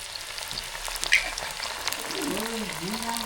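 Jackfruit wafers frying in hot oil with a splash of salt water added, a dense close sizzle and crackle throughout, with a brief burst and a voice speaking near the end.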